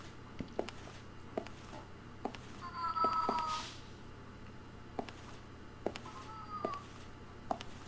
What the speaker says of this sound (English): And I still hear the meowing, of course.